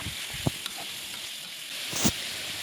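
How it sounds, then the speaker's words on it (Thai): Pork belly deep-fries in oil over high heat with a constant bright sizzle, punctuated by a couple of soft stirring knocks and a louder burst of crackling near the end. "เราก็จะทอดด้วยไฟแรงแบบนี้ไปเรื่อยๆนะคะ"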